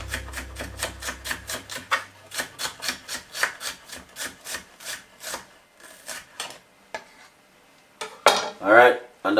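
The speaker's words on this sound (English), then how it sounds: "simple cut up that pepper." A knife chops a pepper on a cutting board in a quick, steady run of crisp taps, close and distinct. The chopping slows toward the end, and a few scraping and handling sounds follow while someone talks faintly.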